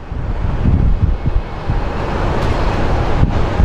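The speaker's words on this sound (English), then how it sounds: "If you guys could feel how windy it is." Strong wind roars steadily across the microphone at Phoenix Sky Harbor International Airport, with low buffeting gusts and rumble throughout and no one speaking.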